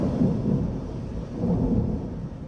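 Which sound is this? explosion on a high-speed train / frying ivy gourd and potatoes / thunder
thunder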